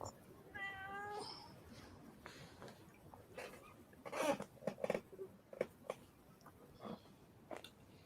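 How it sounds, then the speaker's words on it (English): A cat meows in a short rising series near the start, then makes a few fainter calls, amid quiet room sounds and scattered knocks while people talk intermittently. "It's a cat."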